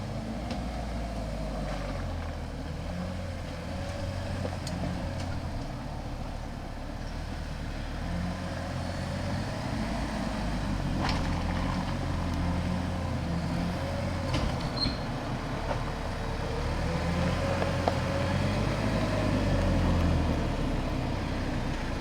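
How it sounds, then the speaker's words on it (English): A Fuso Canter AAV4x4 GX truck-home crawls down an offroad descent in first low with the exhaust brake on, a steady low diesel drone with gentle rises and falls in pitch throughout, no one talking. "this is a descent which has the vehicle in first low using a bit of exhaust brake"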